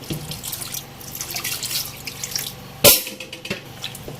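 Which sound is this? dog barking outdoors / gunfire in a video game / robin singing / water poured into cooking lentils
water poured into cooking lentils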